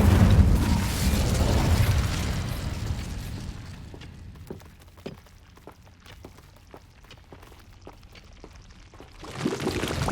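An Incendio fire spell cast in Hogwarts Legacy, a loud roaring whoosh of flame that fades into quieter crackling pops and ticks, then swells again at the end.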